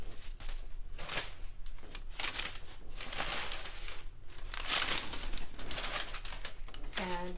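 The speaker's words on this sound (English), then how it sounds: "let's go ahead, get rid of some of this paper." Paper packing is crumpled and pulled out of a Givenchy gift box during an unboxing, a near, continuous crinkling and rustling that swells and eases across the clip.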